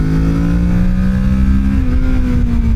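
A Kawasaki Ninja 650 A2 motorcycle engine revs while riding, a loud, close, sustained drone whose pitch climbs steadily and then shifts as the gear changes.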